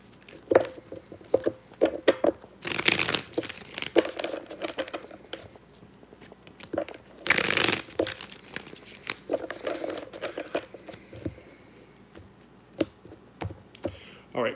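Tarot cards shuffled in the hands, with bursts of riffling and patter separated by soft taps and slides, close and dry with no speech.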